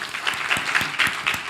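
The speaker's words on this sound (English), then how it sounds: "Nobody has applauded you so strongly before you do something, right?" A conference audience applauds after a talk on AI and democracy, with steady, dense clapping from a sizable crowd and pulses of louder claps.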